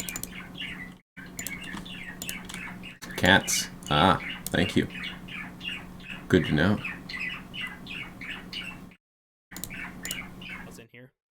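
A pet bird squawks and chirps in a few sharp, loud bursts, interleaved with steady conversational talk and light background clicking.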